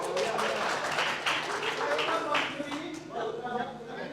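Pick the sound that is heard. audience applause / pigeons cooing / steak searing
audience applause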